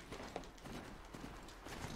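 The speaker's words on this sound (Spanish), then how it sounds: "A ver si el caballo sale." Horse hooves clip-clopping at a steady gallop in the video game Horizon Zero Dawn, a continuous rhythmic trot over ambient game sound, no talk.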